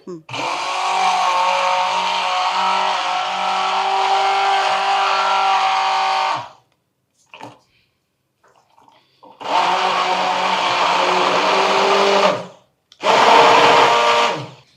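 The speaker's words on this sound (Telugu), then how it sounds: "ఇప్పుడు దీన్ని మనం బ్లెండ్ చేసుకుంటాం" A hand blender whirs through a thick hair pack mixture in three loud close bursts, a long steady run, a pause with small knocks, then two shorter runs.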